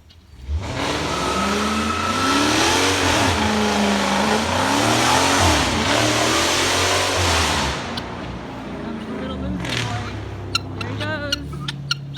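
A car drives past on a residential street, its engine swelling to a loud, revving pass and fading away, followed by a few sharp clicks near the end.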